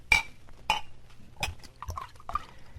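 A drink poured at a saloon bar: a few separate clinks of glass and bottle with short splashes of liquid, spaced about half a second apart, close and fairly quiet against a hushed room.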